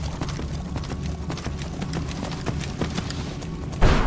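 Horse hooves clip-clop steadily in the Skyrim video game, a continuous rhythmic trotting at close range over game ambience, ending with a sudden louder burst of noise.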